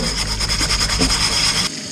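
A stainless steel scrubby rubs in circles over a cast iron skillet under hot running water, a close, steady, rhythmic abrasive scraping that pulses with each stroke before stopping abruptly near the end.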